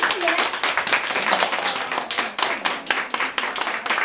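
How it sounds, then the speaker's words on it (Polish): Children clap in uneven, rhythmic bursts at an indoor gathering, the claps close and bright, with voices chattering and calling out alongside the clapping throughout. "Wielkie brawa za to, że dzisiaj przyszliście"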